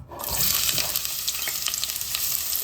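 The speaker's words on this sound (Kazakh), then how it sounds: "Майымыз қызды, енді пиязымызды саламыз" Onions hit hot oil for a meatless soup, bursting into a loud, close sizzle that holds steady, crackling and popping throughout.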